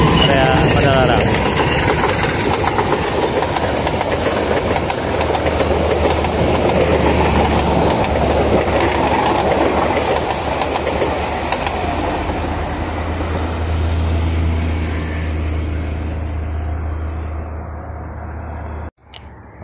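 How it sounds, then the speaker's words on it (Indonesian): A KA Serayu passenger train rounds a curve at Padalarang: a loud, continuous rumble of wheels and wagons with steady clickety-clack and engine drone, holding close for most of the stretch before cutting off abruptly near the end. "KA Serayu relasi Garut, tujuan akhir Pasar Senen, meliuk langsung di area Padalarang."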